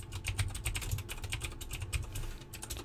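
Rapid, steady typing on a computer keyboard, close and fairly quiet, with light clicking keystrokes and no voices.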